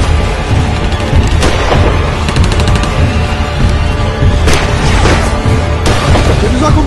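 Repeated gunfire crashes through a staged firefight in an amateur war short, loud bursts and booming shots landing every second or so over dense, noisy background action.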